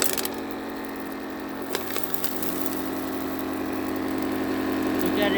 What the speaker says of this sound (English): I'm gonna amp up the motor